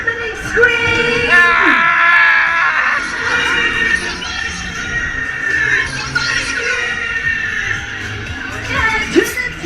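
Riders screaming and yelling together on a fun fair ride at Bognor Regis, a loud sustained chorus of shrieks with children's cries mixed in and rising whoops near the end, under a busy outdoor crowd.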